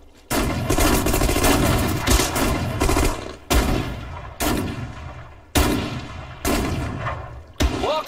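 Heavy gunfire and explosions from the Sudden Strike 4 World War II strategy game: loud, dense bursts of shots and booms that each decay quickly, with short pauses between salvos.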